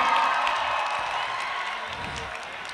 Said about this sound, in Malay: Begitu tepukan untuk Nadia, come on, come on Nadia.